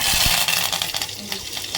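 Cumin seeds sizzle and crackle in hot oil in a pressure cooker, a loud hissing fry close up that eases slightly as it goes on.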